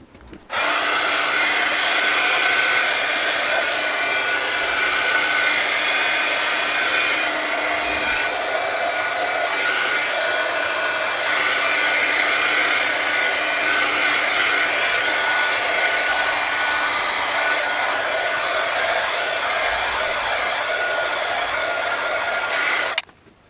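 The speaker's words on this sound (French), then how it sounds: "Je vais mettre un petit coup de séchage." A hair dryer blows steadily and loudly on handmade ink on scrapbooking paper, a continuous close whooshing hum that holds for over twenty seconds before clicking off.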